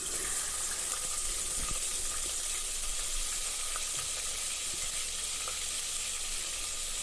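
Ginger garlic paste and green chillies fry in hot oil for a pulao, giving a steady, fairly quiet sizzle throughout with no talking.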